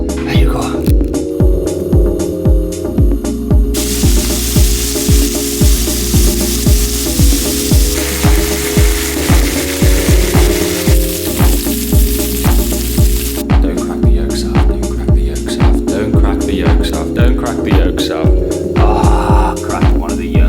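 Animal hearts fry loudly in a hot pan with a dense, steady sizzle and spatter that runs continuously, broken by occasional clinks and stirring, while someone talks over it.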